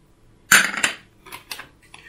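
Liver is stirred with salt and flour in a bowl, giving a sharp clatter of utensil against the dish followed by a few lighter taps and scrapes, close and otherwise quiet.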